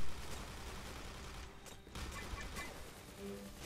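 Rapid bursts of gunfire in the G.I. Joe: Operation Blackout co-op shooter, a dense crackling fusillade that runs throughout at a fairly low level.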